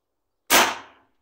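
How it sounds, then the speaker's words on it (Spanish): A single sharp shot from a Fox M25 PCP air rifle in 6.35 caliber firing a 25 grain pellet, tuned up after a service: one loud close crack with a brief decaying tail, then silence. "vamos a hacer un tiro con 25 grain"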